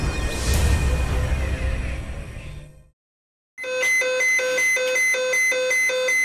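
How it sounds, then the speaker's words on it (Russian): Fire alarm on the space station: a steady, loud repeating electronic beeping tone in a regular pulsing pattern, following a burst of broadband noise that fades into a brief silence. "Пошел сигнал, пожар, дым."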